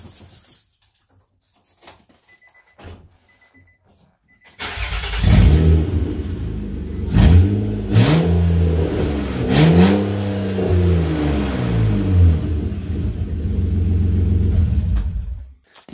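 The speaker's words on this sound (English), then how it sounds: "I'm just going to give it a couple quick revs there" A Nissan Altima V6 engine with the catalytic converter removed starts after a quiet moment, then revs up sharply a few times, rising and falling, before settling into a loud, steady idle close by.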